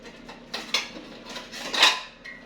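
Metal frying pan (sartén) handled in a home kitchen, a few clanks and scrapes of metal knocking and sliding, close up, with short gaps between the contacts and no talking.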